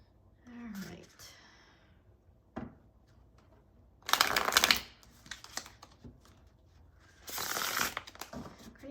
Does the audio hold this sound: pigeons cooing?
no